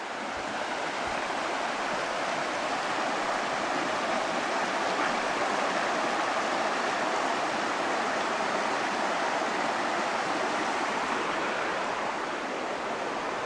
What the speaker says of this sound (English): This is the bridge that goes over my little river.